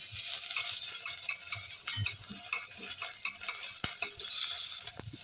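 Onions sizzle and fry steadily in hot oil with green chillies, whole spices and crushed ginger-garlic for chicken biryani, a continuous close crackle broken by occasional scrapes and clinks of a stirring spoon against the pan.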